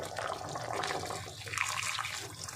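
Water being poured into a pan of plantain kofta curry, a continuous splashing gush that stays close and fairly loud for about two seconds before tapering off.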